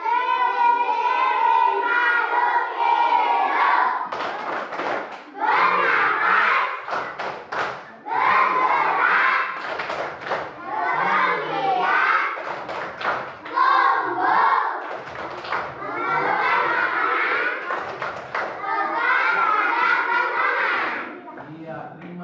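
Schoolchildren in an Indonesian classroom clap the living-things clapping game, rhythmic bursts of hand claps alternating with chanted voices, fairly loud and close throughout.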